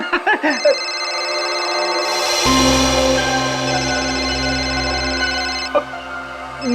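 A phone rings with an incoming call in an indoor setting, a sustained electronic ringtone with layered tones that holds steady for several seconds, loud and close, after a few brief sounds at the start.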